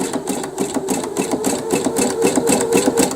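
A sewing machine stitches over wire while a waterfall panel is being made, giving a fast, steady mechanical chatter with regular needle pulses and a low motor hum running throughout, with no speech.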